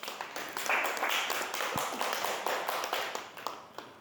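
An audience at a Cameroonian community meeting claps in a loose, moderately distant round, with a few sharper individual claps and taps standing out.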